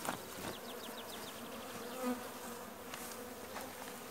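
Honey bees of a weak colony buzz at the hive entrance, a steady faint hum with individual bees droning past up close, quiet and continuous with no voices.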